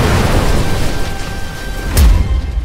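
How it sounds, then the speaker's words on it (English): A cartoon animation's lightning strike: a low rumbling backdrop, then a sudden loud, close boom about two seconds in that rolls off briefly. "Lightning strike!"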